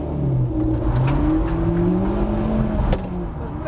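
A Mitsubishi Evo X stunt car accelerates away at a theme-park stunt track, its engine rising steadily and loudly in pitch as it pulls off, heard from close range inside the car.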